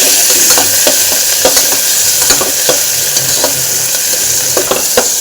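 Tomato and green chilli fry loudly with onions in a hot pan, a dense, constant sizzle close up, broken by irregular spoon scrapes and taps as they are stirred.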